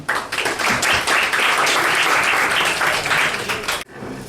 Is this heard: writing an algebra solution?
no